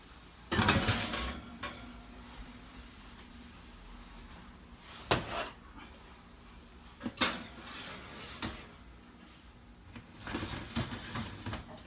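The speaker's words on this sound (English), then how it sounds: "so we put it in the oven" An oven-proof pan with a lid clanks as it goes into a 400-degree oven: scattered metallic knocks and rattles, a few sharp clatters between quiet gaps, fairly close.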